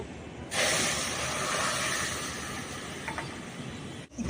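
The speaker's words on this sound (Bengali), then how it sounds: "আমার চিনি সিরাটা ফুটে গেছে আর একটু আমি চিনির সিরা ফুটিয়ে নেব" Sugar and water syrup boiling in a pot for Bengali sitabhog sweets, a loud, close, continuous bubbling hiss that starts abruptly and holds steady before cutting off.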